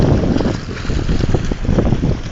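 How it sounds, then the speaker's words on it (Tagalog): Strong sea waves on a shoreline, a loud continuous rushing surge with heavy wind buffeting the microphone, close and alone. "Lakas ng dagat. Ng alon."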